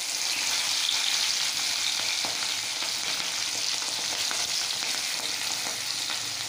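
Onions frying in a pan, giving a dense, even sizzle that stays loud and close throughout with faint crackles and no talking.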